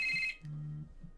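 A telephone rings in short electronic trills, a bright burst at the start followed by softer tones, brief and fairly quiet, with no talking.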